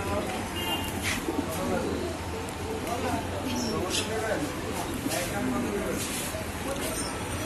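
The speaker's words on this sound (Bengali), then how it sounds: "আপনারা দেখতে পারলেন এখানে বিভিন্ন ধরনের কবুতরের কালেকশন রয়েছে" Pigeons coo repeatedly in a crowded pigeon market at Tongi bazaar, their soft throaty calls mixing with steady crowd noise and the bustle of the stalls.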